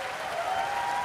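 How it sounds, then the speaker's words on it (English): An audience at a convention gives guests of honor a round of applause, a steady, soft wash of clapping from a crowd. "Let's give our guests of honor one more round of applause."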